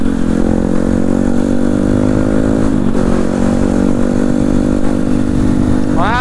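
A two-stroke Kawasaki Ninja motorcycle rides close by, its engine holding a steady buzzing drone throughout with a slight dip midway and a rising rev at the very end, loud and continuous.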